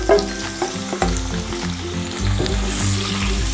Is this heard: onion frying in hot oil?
yes